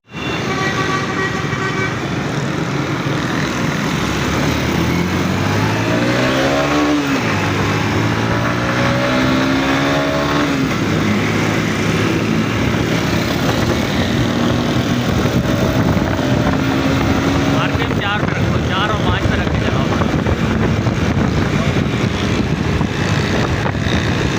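A loud Suzuki GR150 motorcycle engine drones at steady revs in fourth to fifth gear, its tone rising and falling slightly, with wind rush and a brief horn toot.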